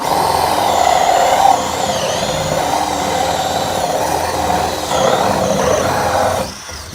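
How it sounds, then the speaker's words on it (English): A hole cutter's teeth grind steadily through the black plastic wall of a German IBC tank, a continuous close, loud whirring drill sound that runs for several seconds before easing off near the end. "So let's drill this hole."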